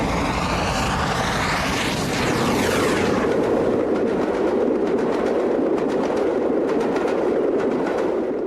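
LNER Peppercorn class A2 steam locomotive running through the old sidings at the summit of the line, a loud, steady roar of motion with rapid rhythmic chuffing and broadband rumble throughout, no talk.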